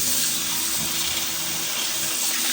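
Tap water runs in a steady, continuous stream while raw tilapia is rinsed clean in a kitchen sink, with a close hiss and no talking.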